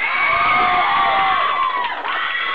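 A live concert crowd at an underground rock club cheers and shouts in a steady, loud roar, with piercing high whoops rising above it throughout.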